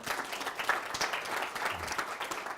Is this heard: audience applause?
yes